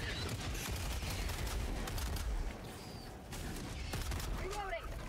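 Shotgun blasts and gunfire during a defense mission in the video game Helldivers 2, a steady stream of shots over a loud battle backdrop with voices mixed in.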